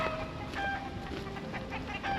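Backyard garden chickens cluck and squawk in short, quiet bursts after being startled by a falling branch, heard at a moderate distance with no talking.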